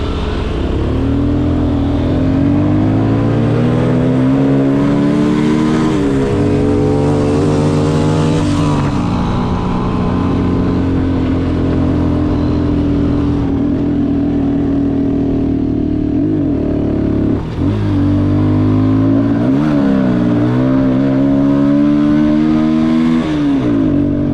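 A Benelli motorcycle engine revs continuously while riding, loud and close, with repeated throttle blips and pitch swings over a steady running drone, no talk.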